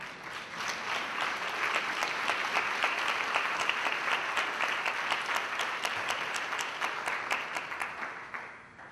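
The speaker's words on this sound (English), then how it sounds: "That's worth a hand clap." Audience applause at a sermon or talk, a dense steady wash of many hands clapping, loud and sustained for the whole stretch with no voices over it.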